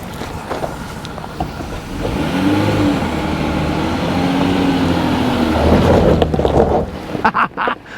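An off-road vehicle in four-high with traction control off, its engine revving and droning steadily and close up, rising in effort near the end amid wind buffeting on the microphone.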